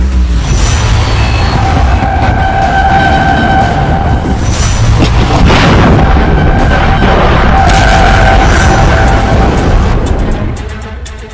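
A military rocket or artillery launch, fired on a crew's command, produces a sustained, very loud roar that holds for about ten seconds before tapering off at the end.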